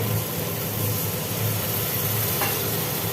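Chili paste sizzles in hot oil as it fries in a pan, a loud, steady, dense hiss that runs throughout with no pauses.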